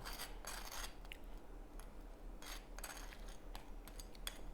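A knife spreads a thin layer of Vegemite, giving soft, dry scraping rasps in several short strokes at close range, with no talking.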